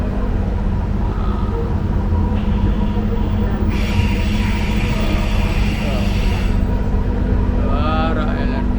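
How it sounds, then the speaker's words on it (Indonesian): Light rail train running on the airport-to-Bumi Sriwijaya line in Palembang, a steady loud rumble of wheels and motor throughout with brief squeals on a curve, while people talk over it. "Suara LRT-nya."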